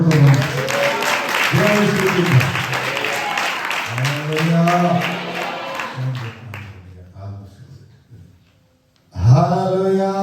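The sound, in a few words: congregation applause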